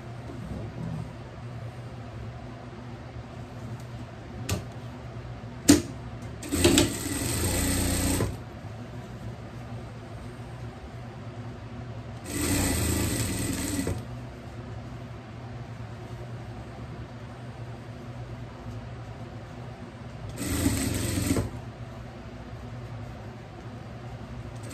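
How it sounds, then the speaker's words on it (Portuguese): A sewing machine stitches a seam on a small pet dress in three short bursts, each a steady whirring run lasting about a second or two, separated by quiet pauses with no talking. "a gente vai passar a costura por tudo"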